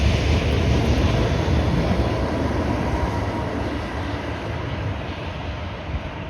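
A Toronto Line 6 LRT light rail train produces a loud, steady, close rumble and rolling roar that fades slightly toward the end, with no voices.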